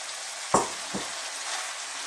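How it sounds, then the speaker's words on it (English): Sliced white mushrooms are stirred into a frying Jamaican pork curry, a steady sizzle broken by two quick scraping stir sounds, close and with no talking. "So let's give them a little stir."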